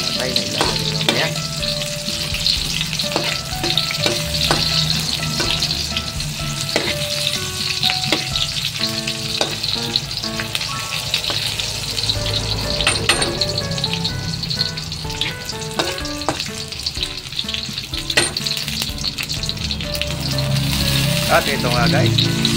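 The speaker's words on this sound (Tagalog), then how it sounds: "medyo tutustahin natin guys yung ating pampalasa at sa ganun ay mawala lalo yung lansa ng ating atay" Aromatics sauté in a pan for bitter gourd with chicken liver, giving a continuous loud sizzle with frequent clinks and scrapes of stirring, and a voice speaks faintly in the background.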